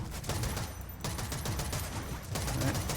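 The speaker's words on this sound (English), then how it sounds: "What was shooting me?" Gunfire in the shooter Eve Vanguard, a dense, continuous volley of overlapping shots and blasts, loud and close, with brief dips in intensity.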